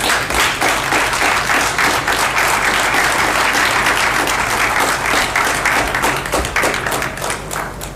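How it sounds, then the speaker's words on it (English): Loud, sustained applause from a standing audience at a regional inclusive justice symposium in South Asia, dense clapping filling the whole stretch without a break. "Please welcome with a round of applause and with a standing ovation to Chief Justice Qazi Faiz Issa."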